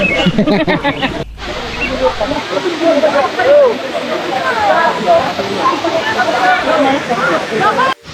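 Daranak Falls in Tanay, Rizal, gives a steady, loud rush of falling water that fills the scene, with people's voices mixed in throughout.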